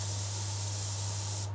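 A spray gun turned down to low pressure lays clear coat lacquer onto a guitar, giving a steady, close, loud hiss that runs unbroken and stops abruptly at the end.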